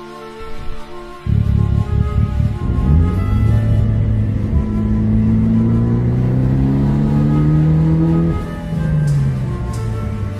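A turbocharged Mitsubishi Evo 8 engine revs hard and climbs steadily in pitch under full throttle, loud and close, with a faint turbo whine riding over the rising roar.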